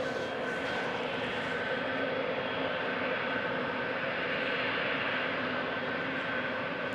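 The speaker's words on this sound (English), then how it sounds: "Will be ready to taxi out. There we go, taxiing out right now." A Boeing 777-200ER taxis out at Amsterdam Schiphol airport, its jet engines giving a steady, loud, broadband roar that holds evenly for the whole stretch with no voices.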